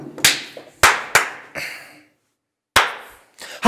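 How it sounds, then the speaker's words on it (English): Sharp hand claps marking the start of a podcast recording, a handful of loud, close, dry smacks at irregular spacing with a brief silent gap, no talking. "Recording. Clap."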